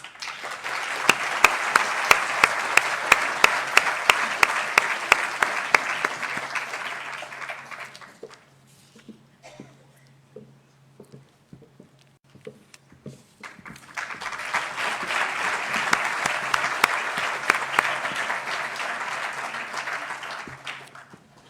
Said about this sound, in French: Je vous demande d'applaudir Mathieu Sauchard et Zachary Pervier